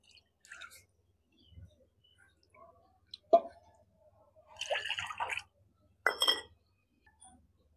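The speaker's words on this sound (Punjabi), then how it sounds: "ਇਹਦੇ ਵਿੱਚ ਪਾਵਾਂਗੇ ਆਪਾਂ ਦੋ ਕੌਲੀਆਂ ਇਹ ਪਾਣੀ ਦੀਆਂ" Two bowls of water pour into a kadai on a stove in two short splashing bursts, set among sparse clinks and drips in a quiet kitchen.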